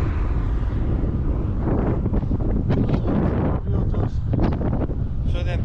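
Constant wind buffets the microphone during an outdoor bike ride near Tērvete in Latvia, producing a loud, steady rumble with gusty surges throughout.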